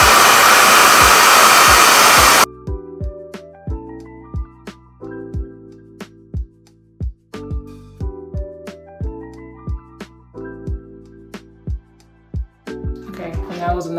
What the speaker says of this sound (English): Go in with the same setting and just get the roots a little bit and travel down.